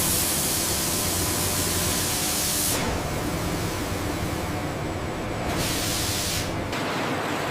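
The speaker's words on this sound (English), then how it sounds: "the natural textures are preserved through a series of steam and spray treatments" A steady, loud hiss of steam spraying onto python skin in a leather factory runs throughout, changing tone slightly a few times as the spray shifts, with no voices.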